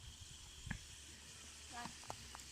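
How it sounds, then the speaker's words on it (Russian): Meat sizzles in a pot (kotelok) over a campfire on a fishing trip by the Volga, a steady faint frying hiss with a few soft clicks and stirring knocks. "А мясо у нас скворчит, да? Сейчас поджарится"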